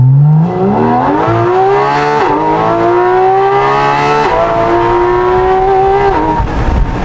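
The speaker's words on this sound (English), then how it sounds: "With the X pipe and the valve muffler casing really helps accentuate that F1 RSR sound." A Porsche Cayman GT4 RS with a valved titanium rear exhaust and X-pipe revs hard and loud, pitch rising and falling through several sharp throttle blips with a raspy, high-pitched note, near buildings.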